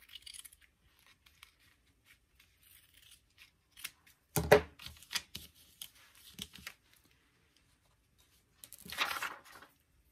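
Scissors snip away a small piece of pinned quilting fabric while sewing flying geese, two sharp close cuts standing out among soft rustling and handling of the cloth in an otherwise quiet room.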